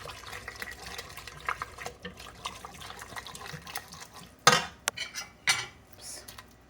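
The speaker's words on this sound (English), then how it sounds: "keep stirring as you add each spoonful" A spoon clinks against a pot while crab bisque is stirred and spoonfuls are added, with soft scraping and several sharper metallic knocks in a quiet kitchen.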